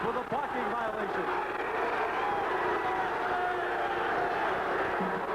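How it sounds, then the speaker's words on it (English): A basketball arena crowd at the 1988 WAC championship game between Wyoming and UTEP keeps up a sustained, dense roar of cheering, with a commentator talking over it. "Here comes the crowd."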